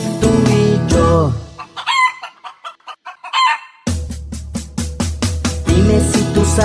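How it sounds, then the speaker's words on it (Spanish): Farmyard chicken sounds: a hen's rhythmic clucking bursts alternate with a loud rooster crow, then more busy clucking, all close and clear with no talking. "Dime si tú sabes cómo hace la gallina."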